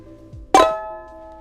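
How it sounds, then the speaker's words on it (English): Harmonic on a charango: one bright, bell-like plucked tone that rings and slowly fades, preceded by faint, low background sound. "They sound like this on the charango."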